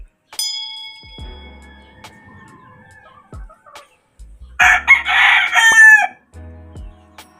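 A rooster crows loudly nearby amid scattered clucking from chickens, with quieter farmyard sounds between the calls.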